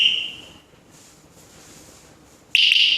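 A 110 dB anti-theft alarm gives two loud, shrill electronic beeps: one at the start and another near the end, with a quiet pause between them.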